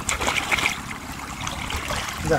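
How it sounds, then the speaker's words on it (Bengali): Rainwater drains steadily out of a cut in a rice field bank after heavy November rain in Rajshahi, a continuous close trickling and splashing flow with no pauses. "পানিগুলো খুব তাড়াতাড়ি নিষ্কাশন হয়ে গেল।"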